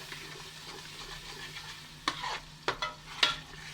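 Prawn biryani masala stirred in a pan, a faint steady sizzle broken by three distinct scraping strokes of a spoon against the pan, with no voices.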